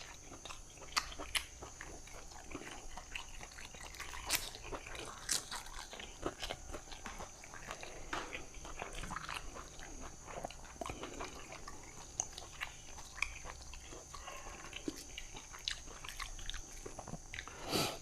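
Someone eating spicy Thai beef koi salad with herbs and kaffir lime leaves, quiet close chewing and soft crunchy bites repeating irregularly over a faint steady background hum, with no talking.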